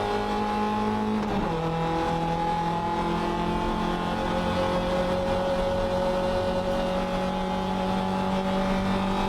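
Racing cars at full throttle side by side down a bumpy circuit's back straight toward turn 6, a loud sustained engine drone with a gear-change dip early on, then steady climbing revs close by.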